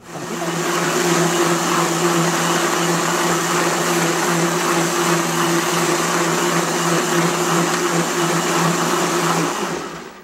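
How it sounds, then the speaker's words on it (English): A blender whirs steadily and loudly for about ten seconds, smoothing potato kale soup, a constant motor drone with no talking. "I just blended up just to make sure it's all smoothed out"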